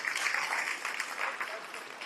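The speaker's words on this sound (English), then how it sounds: "A big round of applause for Julene." Applause from the crowd at a netball grand final presentation, a moderate, fairly distant patter of many hands that fades slightly toward the end.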